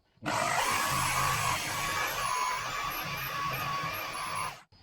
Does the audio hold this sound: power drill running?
yes